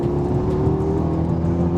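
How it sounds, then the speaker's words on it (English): A Renault Megane turbo engine pulls hard, a loud, close, steady drone with a low throb that holds for nearly two seconds without a break. "That turbo is strong."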